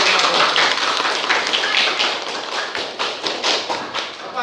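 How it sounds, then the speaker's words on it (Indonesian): Children clapping hands together in a primary school classroom at the end of a lesson, a lively, close burst of rhythmic claps that slows into a patterned beat, with a few voices mixed in. "Tepuk tangan buat semuanya untuk pembelajaran."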